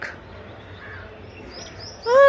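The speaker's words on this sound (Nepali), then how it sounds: "कोइली पनि करायो, यहाँनिर बसेर कराइरहेछ कोइली।" Faint calls of an Asian koel and crows sound through a quiet background, then a loud, harsh call bursts in close by at the very end.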